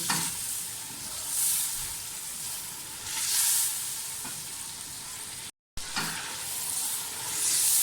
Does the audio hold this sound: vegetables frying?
yes